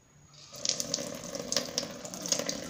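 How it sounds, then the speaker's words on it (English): Running water splashing steadily from a tap, with small irregular spatters as a goalkeeper glove is rinsed under the stream, close and moderately loud. "So what you're gonna want to do first is rinse it with the water."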